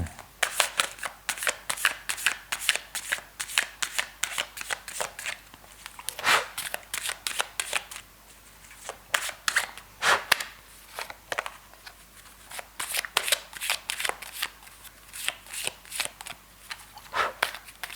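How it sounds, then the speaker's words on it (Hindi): Tarot cards being shuffled by hand, a steady run of crisp riffling and flicking bursts, close and fairly quiet, with no talking over them. "तो करते हैं कार्ड्स को शफल"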